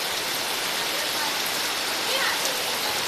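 Steady, dense rain falls on a monsoon day in a Konkan village, a continuous even hiss with no clear break, moderately loud and close.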